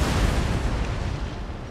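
Ship cannon fire in Napoleon: Total War, a loud, close broadside roar of overlapping booms that fades into a rumbling decay.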